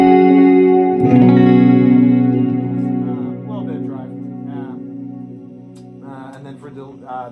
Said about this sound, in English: I'm using a JHS modified Boss RV6 reverb, Vox AC30.